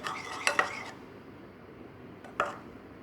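A lid is set over a bowl of pizza dough, giving a few close clinks and taps of crockery, two in quick succession then one more after a quiet pause.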